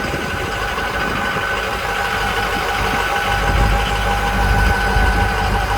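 Steady, close idle of a 2005 Ford F350 XLT Powerstroke diesel on stock exhaust, with a rough knocking clatter and low rumble that grows a little heavier toward the end, no talk.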